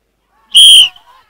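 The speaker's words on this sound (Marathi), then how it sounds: "शिट्टी वाजली, जोडी सुटली" A single loud, sharp referee's whistle blast starts a bullock-pair mud ploughing race at a village competition, ringing alone and close for about half a second before fading.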